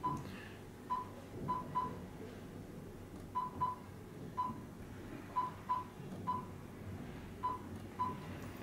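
Short dialing tones from a phone, played through a 9-inch Android 9.0 touch-screen head unit in a Mazda CX-7, sound as separate beeps in irregular pairs and singles over a steady low background hum in the car.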